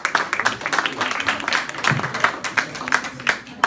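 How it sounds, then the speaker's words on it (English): Audience applause for a speaker at a TUC and Stand Up To Racism event, a lively burst of clapping with uneven, rippling peaks, fairly close and filling the room. "A round of applause, please, for Akhtar."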